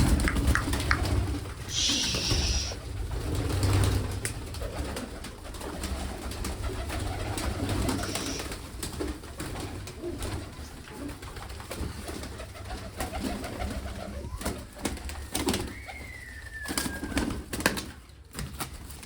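Pigeons coo softly and repeatedly nearby, low throaty calls over a quiet outdoor background with occasional faint chirps and rustles.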